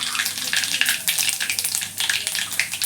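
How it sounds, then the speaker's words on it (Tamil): Mustard seeds crackle and pop in hot sesame oil while garlic pickle is being cooked. The sound is a continuous sizzle dotted with small, quick pops, at moderate loudness and with no speech. "கடுகு வெடிச்சிச்சு."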